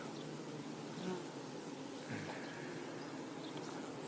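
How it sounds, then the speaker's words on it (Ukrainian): Honeybees buzzing over flowering phacelia, a faint, steady outdoor drone of insect wings with no talk. "Бджілка активно зараз випаровує хоч якийсь але нектар."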